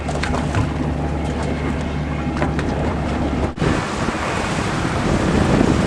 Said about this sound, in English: A little breezy. A little wind out of the north.